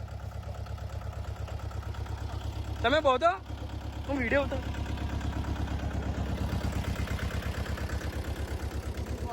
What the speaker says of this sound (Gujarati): મિની ટ્રેક્ટર મહેન્દ્રા તો ગાઈસ મિની ટ્રેક્ટર આવી ગયેલું છે